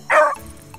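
A beagle gives one sharp, loud bark up close, followed by faint rustling and low background sound.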